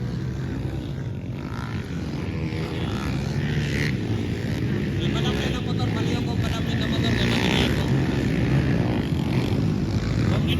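Underbone motorcycles race in a motocross final at an invitational event in Compostela, Davao de Oro, a loud continuous buzzing engine roar that rises and falls in waves, with an announcer talking over it.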